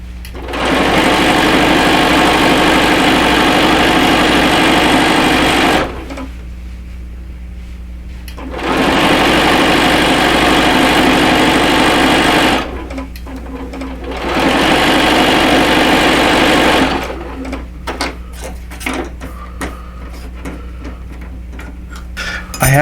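A sewing machine stitches binding and a sleeve onto small quilts in three loud, steady runs of several seconds each, separated by quiet pauses with faint handling clicks.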